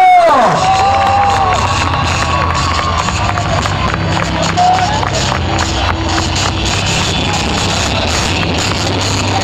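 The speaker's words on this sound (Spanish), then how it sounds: "¡Fuerte el aplauso!" A large, dense festival crowd cheers and shouts continuously at the lighting of the arch at León's Light Fest 2018, loud and close, with whistles and scattered voices over a steady roar.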